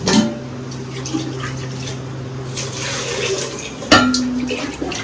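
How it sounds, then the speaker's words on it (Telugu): Water is poured into a large cooking pot holding tomatoes for a big batch of food, giving a continuous splashing rush with a metallic ring and a brief louder clatter near the end. "ఇప్పుడు నీళ్ళు పోసుకుందాం"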